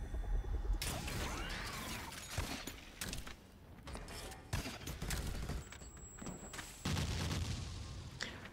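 Trap bombs drop and explode beside corrosive cubes in Meet Your Maker, a cluttered run of thuds, blasts and mechanical clanks at moderate volume, with no talking.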